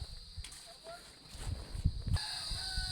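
A derby fighting rooster clucks and gives short calls nearby against faint outdoor background noise, with scuffing footsteps and brief rustling.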